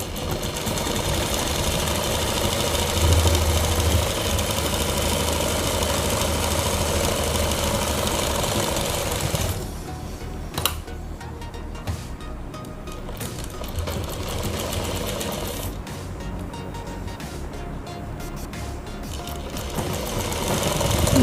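A sewing machine stitching a kurti with a steady mechanical hum and rapid clatter, loud and close, easing into a lighter running whir partway through.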